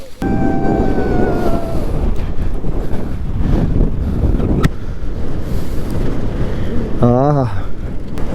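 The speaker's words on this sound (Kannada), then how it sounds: "ತುಂಬ ಸೈಕಾಗಿದೆ ಗಾಳಿ. ಸಖತ್ ಗಾಳಿ ಬೇರೆ" Strong wind roars and buffets the microphone continuously, loud and close, at Devaramane near Charmadi Ghat, with a brief whistle near the end and no talking.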